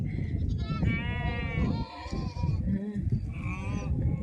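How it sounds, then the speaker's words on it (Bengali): Several sheep bleat repeatedly in the Sundarbans, wavering calls overlapping one another at close range over a busy outdoor background. "কত ভেড়া, আরো আসছে সব"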